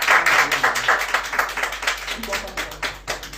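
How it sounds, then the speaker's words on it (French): A modest crowd at an eco-guard lottery draw claps in a loose, uneven rhythm, individual hand claps distinct, with voices talking over the applause. "Sous vos applaudissements, s'il vous plaît."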